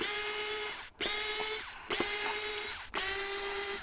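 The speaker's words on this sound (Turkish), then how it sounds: "Şunların vidalarını da alalım." A tool whirs and ratchets while backing screws out of a blood pressure monitor being taken apart. Three loud, steady bursts are separated by brief pauses, and the sound is close up.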